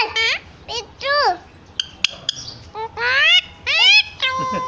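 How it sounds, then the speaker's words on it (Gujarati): A parrot talks in short, chirpy, squawking bursts of speech-like syllables, close and fairly loud, broken by brief pauses and a sharp click. "પોપટ મીઠું બોલ"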